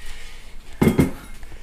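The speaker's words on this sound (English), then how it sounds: "Wow, that's heavy. That's the lid." A heavy pan lid is handled, giving two quick close metallic clanks in a row against quiet room background.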